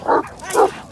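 Two short, deep barks from a large guard dog breed related to the Kangal shepherd, close and loud with a brief gap between them.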